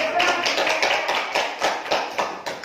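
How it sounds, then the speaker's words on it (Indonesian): Classroom applause for a student presentation group at a vocational school, a short burst of many hands clapping, fairly close and steady, with a voice speaking beneath it. "berikan aplaus buat kelompok 3"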